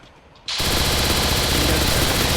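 Rapid gunfire from a video game shooter erupts after a short quiet opening and then rattles on loud and continuous, like automatic weapon bursts.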